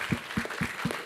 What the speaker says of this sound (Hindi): इस टीम के लिए एक बार जोरदार तालियां हो जाएं